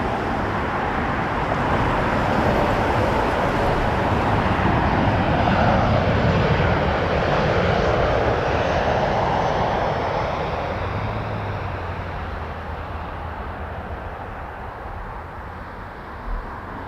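A jet airliner takes off at Toronto Pearson Airport, its loud, broad engine roar building and holding steady before slowly fading into the distance as the aircraft climbs away.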